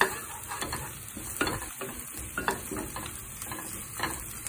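Ginger, garlic and onion sautéing in a pan while chicken adobo is prepared, with a steady close sizzle and repeated stirring scrapes throughout.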